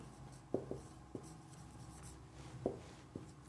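Chalk or marker tapping and scraping on a board while an example English sentence is written during a tense lesson, a few sharp separate strokes in a quiet room with no speech.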